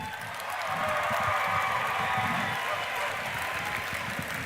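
Sustained audience applause for the IDF Rabbinate Choir at a Yom Yerushalayim 50 opening gala, a broad, even wash of clapping from a large crowd with some voices mixed in beneath it.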